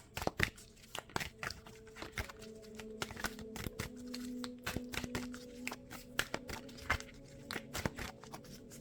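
Tarot cards riffled and shuffled by hand, producing a close series of sharp papery snaps and crinkling bursts in irregular clusters, fairly quiet, with no speech.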